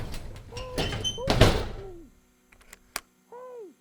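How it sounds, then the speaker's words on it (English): A door closing in an audio drama sound effect, with thumps and a solid shut amid short creaks, then a brief knock and quiet. "who closed the door?"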